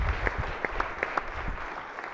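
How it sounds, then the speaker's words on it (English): Applause rises in a state Senate floor session as a Senate page prospect is welcomed, a moderate, fairly sparse patter of claps with a few distinct sharp claps standing out. "So give him a round of applause"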